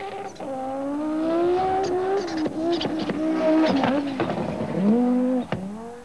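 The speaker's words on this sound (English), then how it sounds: "Audi Quattro Sport and official works representative Walter Röhrl." An Audi Quattro Sport rally car's engine rises and falls in pitch as it accelerates hard and shifts gears, loud and close, with sharp revving bursts, at Pikes Peak.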